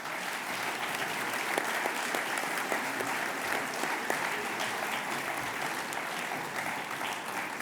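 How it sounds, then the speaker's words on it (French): Sustained applause from a conference audience, dense and steady throughout at moderate loudness, with no one talking over it. "je crois qu'on peut les applaudir."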